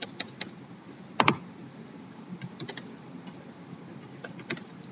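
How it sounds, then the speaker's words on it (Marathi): Program code being typed on a computer keyboard, with scattered individual key clicks and one louder double tap, close up over a low room hum, without speech. "इथे लिहितो मी कोड"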